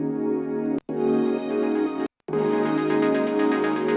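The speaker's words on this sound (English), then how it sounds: "This is all the main pads and strings here." Layered synth pads and strings from Serum playing sustained chords alone, a warm, dense wash with two brief full dropouts before the sound swells back in.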